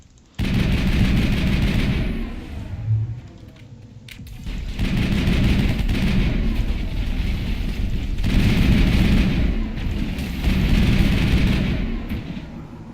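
Sustained bursts of gunfire and heavy booming blasts from the game Mass Effect, loud and dense in several waves with brief dips between them, no talking.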